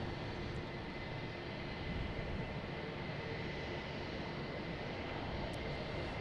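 A fixed-wing airliner bound for JFK, passing Boston Logan airport, gives a steady, moderately distant broadband engine roar that holds evenly throughout with no talk.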